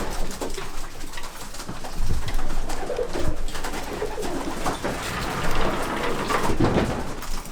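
Homing pigeons coo in a racing loft, soft overlapping rolling calls close by with rustling and shuffling among the birds.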